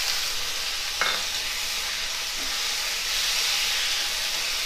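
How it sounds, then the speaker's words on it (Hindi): Onion with ginger, garlic and green chili paste frying in a pan, a steady loud sizzle and hiss throughout, with a brief clink of a spoon stirring near the start. "अब मैं इसमें अदरक लहसुन हरी मिर्च का पेस्ट डालकर भूनूंगी।"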